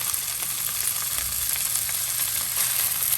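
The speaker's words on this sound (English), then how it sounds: "We're going to give these pork chops a hard sear." Pork chops sear in a very hot pan with olive oil, giving a loud, steady, close sizzle and crackle throughout.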